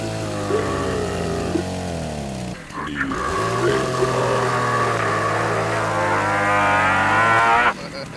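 A cow in the video game Rust lets out long, loud, drawn-out moos with a deep droning tone, filling the scene almost continuously.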